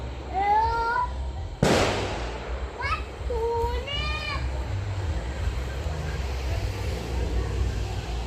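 A single sharp firecracker bang on New Year's Eve cracks out between bursts of a voice speaking, with faint background noise lingering after the blast.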